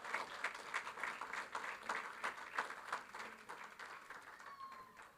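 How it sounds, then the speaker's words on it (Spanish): A church congregation applauds, with faint, distant, steady clapping that carries a soft patter of hand claps through the room for several seconds. "Denle ese aplauso al Señor"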